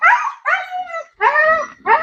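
A Doberman barks loudly and close by, giving four sharp, slightly whiny barks in quick succession with short pauses between them.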